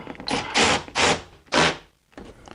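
Fasteners being ratcheted in on a BMW E90 headlight, three or four loud close bursts of clicking ratchet turns separated by short pauses, with a quieter burst at the end.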